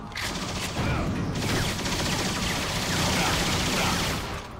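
Sustained gunfire from the shooter video game Vanquish, dense and continuous bursts filling the whole stretch at steady loudness, with game noise layered underneath.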